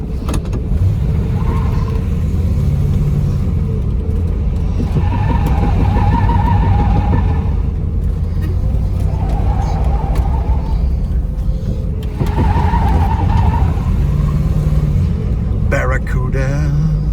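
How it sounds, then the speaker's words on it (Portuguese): A Plymouth Barracuda with a big-block V8 rumbles loudly and revs hard, with tires squealing on the gear change, while people talk over the engine noise throughout. "Canta o pneu quando joga a segunda"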